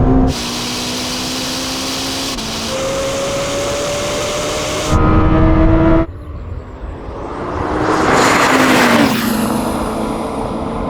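A Lamborghini Temerario and a Ferrari SF90 drag race, their engines loud and close as they rev and climb in pitch through the gears, broken by abrupt cuts and rushing wind noise.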